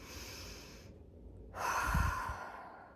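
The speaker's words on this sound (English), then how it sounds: "Let's take a deep breath in together." A single slow, deep breath in, drawn close and audible as a soft rushing hiss that swells and then eases, heard alone in a quiet guided-breathing moment.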